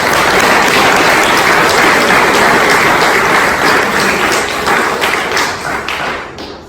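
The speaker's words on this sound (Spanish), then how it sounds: "Dale un fuerte aplauso al Señor." A church congregation gives a loud, sustained round of applause, dense clapping filling the room throughout before tapering slightly at the end.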